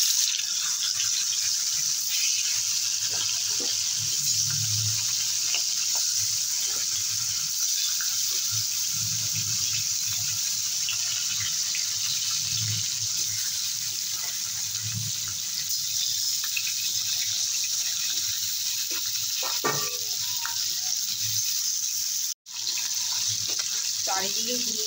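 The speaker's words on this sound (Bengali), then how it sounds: "দিয়ে দেবো কালো জিরে ফোড়নে, আর দিয়ে দেবো মাছ।" Hilsa fish and black cumin seeds frying in hot oil give a steady, close sizzle and hiss that carries all the way through, with faint voices low underneath.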